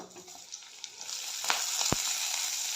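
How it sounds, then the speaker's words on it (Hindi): Fenugreek greens fry with garlic and chilli in a pan, giving a close, steady sizzle that swells midway, with a few sharp clicks and scrapes from stirring. "तो ये मस्त मेथी भाजी लहसुन और मिर्चा मैं फ्राई करूँ"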